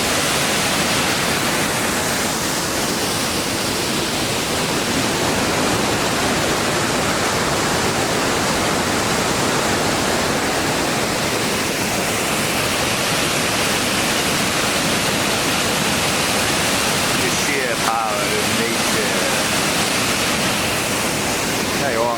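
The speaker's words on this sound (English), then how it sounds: "Now that's more of a waterfall." Golspie Falls waterfall in the Sutherland Highlands roars as a steady, dense rush of falling water, loud and close throughout with no pauses.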